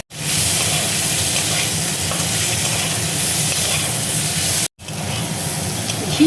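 Bitter gourd, tomato and green chili frying in ghee in a pan for a bharta, a loud continuous sizzle and hiss that stops abruptly for an instant, then resumes with a faint stirring clink at the end.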